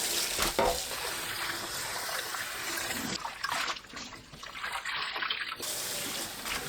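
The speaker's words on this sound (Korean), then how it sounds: "찬물에 3-4번 헹굽니다." Blanched aralia shoots are rinsed in cold water, giving continuous splashing and running-water noise close up, with a brief louder slosh near the start and uneven, gurgling movement in the second half.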